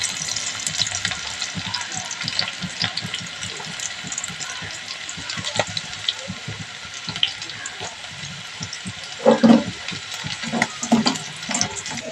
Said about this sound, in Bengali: এই যে এবার আমি এখানে আদা আর রসুনের কুচি দিয়ে দেব।